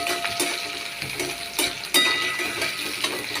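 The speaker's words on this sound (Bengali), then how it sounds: "পেঁয়াজ ভাজা হয়ে গেছে" Onions fry in hot oil in a pan after a tempering of five spices, giving a continuous sizzle broken by sharp clinks and scrapes of a utensil stirring against the pan.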